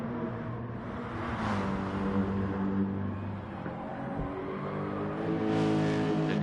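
Gran Turismo-style Gr3 race cars, including a Lexus, run on a track in a video game lobby qualifying session, with engine drone rising and falling as cars pass, alone and without speech.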